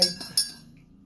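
A spoon clinks against a cup while stirring, giving a couple of quick, bright, close taps that ring briefly and fade into quiet.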